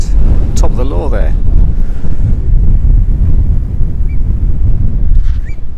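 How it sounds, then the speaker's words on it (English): Strong gusting wind from an approaching storm buffets the microphone outdoors near Wormit, a loud continuous low roar with a few faint higher sounds, and no clear speech. "getting very windy indeed"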